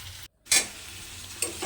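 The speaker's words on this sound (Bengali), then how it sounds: "মাছ ভাজার তেলের মধ্যে আমি দিয়েছি কালো জিরে ফোড়ন, পেঁয়াজ, কাঁচা লঙ্কা আর আলুগুলো দিয়ে একটু ভাজা ভাজা করে নিচ্ছি" Potatoes, onion and green chili frying in oil left from frying fish, with nigella seed tempering; a close, steady hiss broken by a brief silent gap and two sharp bursts of spatter as the pan is stirred.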